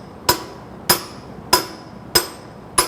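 Five sharp, evenly spaced hammer strikes ring out close and loud as a wheel seal is driven into a semi truck hub, each blow carrying a bright metallic ring, with no talking.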